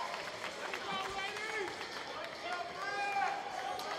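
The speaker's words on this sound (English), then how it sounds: "you can hear everybody around us right now on their feet applauding" A wrestling crowd on its feet applauding and cheering, a steady wash of clapping and voices filling the arena at moderate distance, with a commentator talking over the noise throughout.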